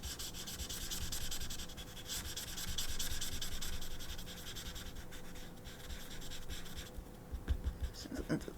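Chisel-tip marker inking onto paper, with steady scratchy strokes rising and falling in long passes, quite close, then a few short taps near the end; no talking.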